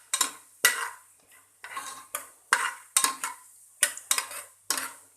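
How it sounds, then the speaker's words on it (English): Spices stirred in a pot for Indian home-style mutton biryani: a spoon scrapes and clinks against the metal pot in about a dozen sharp, close strokes, with a faint sizzle underneath and no talking. "All these spices we need to put in first. Just give it a stir."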